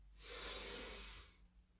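A single long, breathy exhale through the nose during a yoga flow, close and soft, swelling and fading over under two seconds in a quiet room.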